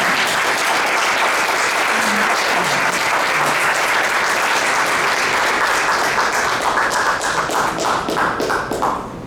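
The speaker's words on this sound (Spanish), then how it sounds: "le pido un fuerte aplauso para el doctor Tábara" Strong, sustained applause from an audience at a lecture event honoring a doctor, dense and loud throughout and tapering slightly near the end.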